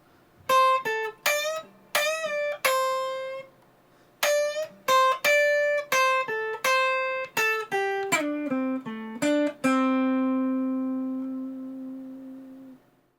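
A clean electric guitar plays a quick melodic lick of plucked single notes and slides, ending on a long sustained low note that rings out alone.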